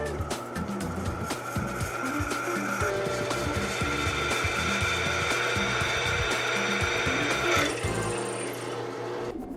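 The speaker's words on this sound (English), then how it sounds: "Now it's time to drill." A power drill grinds into a metal flywheel steadily for nearly ten seconds, a loud continuous whir with rough mechanical chatter and slight shifts in pitch.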